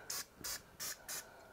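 Butter-flavored Pam cooking spray hisses out of the can in four short, evenly spaced bursts, sprayed onto a ribeye steak at a Blackstone griddle, fairly faint and alone.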